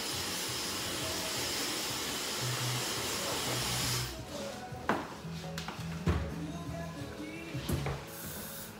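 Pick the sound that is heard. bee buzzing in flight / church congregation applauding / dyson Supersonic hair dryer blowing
dyson Supersonic hair dryer blowing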